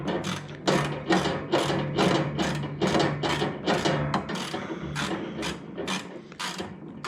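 A ratchet tightens nuts on a Jaguar MKII during reassembly, giving a quick, regular series of close, sharp clicking strokes that runs steadily throughout.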